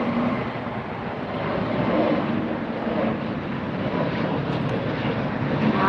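A large jet airliner at LAX airport gives off a loud, continuous broadband roar that swells slightly and holds steady for several seconds, with no speech over it.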